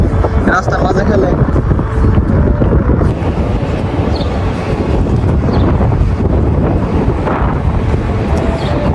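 Strong outdoor wind buffets the microphone in a loud, continuous low rumble, with gusts swelling and easing and faint voices partly buried beneath it.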